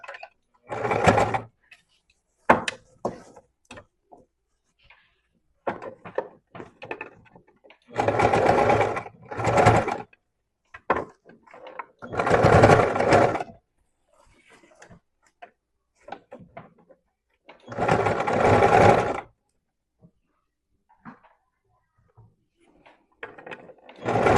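Sewing machine stitching a seam with a 1 cm margin, running in four loud, steady bursts of a few seconds each, separated by soft clicks and fabric handling.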